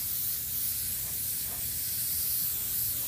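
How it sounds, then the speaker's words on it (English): An airbrush sprays phthalo blue paint through a stencil, producing a steady close-up hiss that runs unbroken throughout, with no voices. "Spraying through it here with a little phthalo blue"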